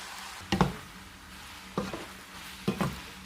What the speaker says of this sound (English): So here, so I'm stirring it right now